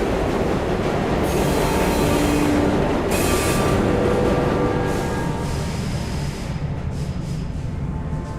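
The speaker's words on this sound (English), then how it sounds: "We have reached the end of the line where this train will terminate." A train in Luna Abyss rolls into a terminus station, a loud continuous rumble of wheels on rails with metallic squeals and tonal whines rising and fading as it slows, steady throughout with no voices.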